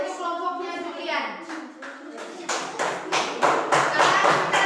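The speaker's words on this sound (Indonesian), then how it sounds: "tepuk tangan untuk kelompoknya Julian." Students in a mathematics classroom clap for a group, the rhythmic claps building and growing louder after a teacher's voice speaks over the start.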